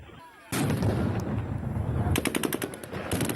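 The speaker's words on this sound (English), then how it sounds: "The response, stun grenades and gunfire, causing the crowd to scatter." Gunfire and stun grenades erupt as a crowd of residents scatters in occupied Kherson, Ukraine: a loud sudden blast followed by a dense, sustained burst of rapid cracking shots.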